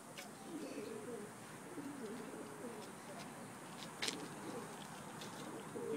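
Pigeons cooing outdoors, soft low coos repeating faintly amid a busy ambient background with occasional sharp chirps and flutters.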